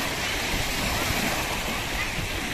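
Sea waves wash onto a beach in a steady, fairly faint rush of surf that continues without break.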